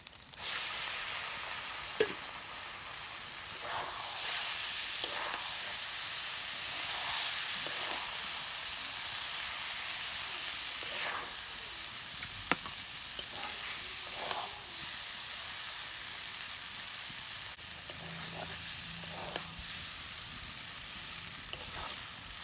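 Boiled noodles tossed in a pan with fried egg, a continuous airy sizzle and hiss with occasional stirring scrapes and a sharp clack, steady and moderately close, no voices.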